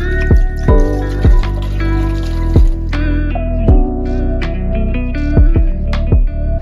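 Cabernet and apple cider poured together for mulled wine: loud, close liquid glugs and splashes with repeated drips and gurgling bursts in an uneven rhythm, no talk.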